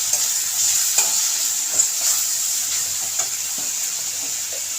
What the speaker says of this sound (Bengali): এখন আমি হলুদ গুঁড়ো দিয়ে দেবো, পরিমাণ মতো হলুদ গুঁড়ো